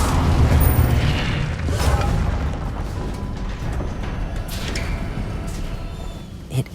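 An Incendio fire spell cast in the Hogwarts Legacy video game bursts out as a loud, booming whoosh of flame, then rumbles on steadily for several seconds before a small final pop.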